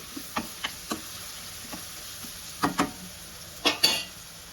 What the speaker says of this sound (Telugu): ఇది బాగా ఆయిల్లో ఫ్రై అవ్వాలి